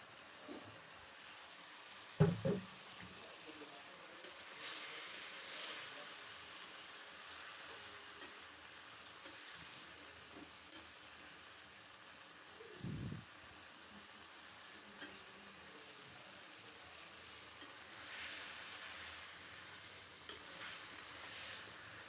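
Chicken liver frying with spices, stirred now and then: a low, steady sizzle with a couple of distinct scraping stirs standing out from the quiet hiss.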